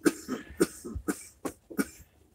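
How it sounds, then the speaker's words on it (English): Someone coughs repeatedly after smoking a joint, a run of about five harsh, close coughs with short gaps between them, faint throat-clearing in between. "cough."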